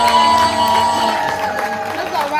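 An audience at a live spoken-word performance event applauds and cheers for a performer, a steady wash of clapping and scattered whoops under a host's amplified voice.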